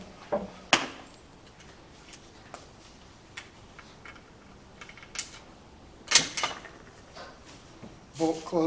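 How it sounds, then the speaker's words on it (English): Bolt of an 1870 Swiss Cadet rifle worked and closed, giving a few sharp metallic clicks and clacks spaced apart against a quiet background. "Bolt closes pretty well."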